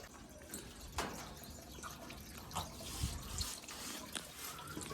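Soaked beans being washed in water from a tap, with faint running water, soft drips and small splashes at close range, quiet and steady with occasional louder sloshes.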